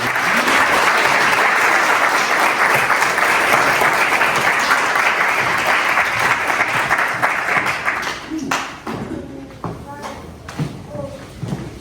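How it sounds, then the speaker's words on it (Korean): Sustained applause from a church congregation fills about eight seconds at a founding-anniversary honorary ordination service in a Long Island Korean church, then thins into scattered claps and a few voices. "박수로"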